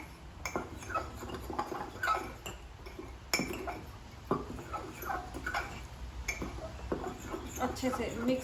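A spoon stirs brownie batter in a mug, giving repeated light clinks and taps against the sides at an uneven pace, close by, while people talk over it.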